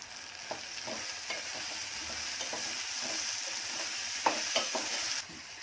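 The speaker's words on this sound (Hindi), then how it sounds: "अब इसमें पहले डालूंगी मिर्ची, जिसको जरा प्याज के साथ 2-3 मिनट भून लूंगी" Green chilies frying with onion for a Konkani-style mirchi sabzi, a gentle continuous sizzle with rhythmic spoon stirring and a few sharper scrapes against the pan, close and quiet without talk.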